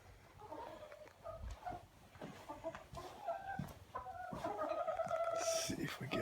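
Chickens cluck softly in a coop on a snowy March day, scattered low clucks and squawks building toward the end, fairly quiet with some shuffling and no talk.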